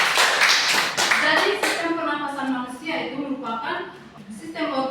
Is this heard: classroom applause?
yes